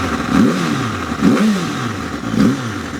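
Yamaha R7 motorcycle carrying an R1 engine, revved through a Graves exhaust pipe in three sharp throttle blips that rise and fall about a second apart, loud and close, with no voices.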